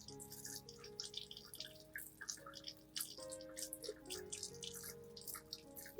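Plant roots washed gently under a running tap, with soft trickling water and scattered drips and splashes at close range, fairly quiet throughout.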